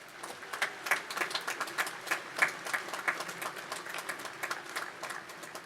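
Scattered, moderate clapping from the crowd at the Washington and Lee University undergraduate commencement, a loose patter of individual claps heard at some distance without any swell.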